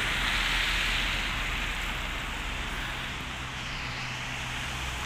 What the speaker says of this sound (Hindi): बारिश हो रही है, हल्की हल्की किनमिन पड़ रही है